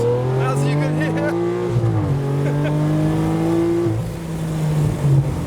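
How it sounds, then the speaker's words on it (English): A modified Lamborghini Aventador with a full custom exhaust drones steadily with a deep, throaty exhaust note, rising and falling slightly as it revs, loud and close throughout. "So we have a full custom exhaust, as you can hear."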